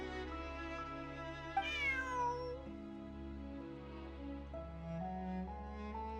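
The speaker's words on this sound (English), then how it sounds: "Bonnie is Pierre's cat" A cat meows in the Genshin Impact video game, a couple of rising and falling meows heard over a steady bed of background game music, with no talking.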